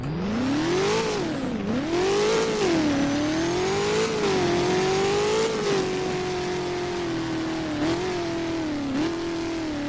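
An SSC Tuatara Striker engine in the Roblox game Driving Empire revs loudly and continuously, its pitch swelling and dipping through several high, strained surges with no voices present.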